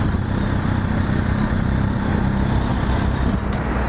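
A 2005 Kawasaki ZX-10, a 1,000cc inline liquid-cooled four-cylinder sportbike, runs in a steady, dense idle close to the microphone, a continuous engine drone with no voices over it.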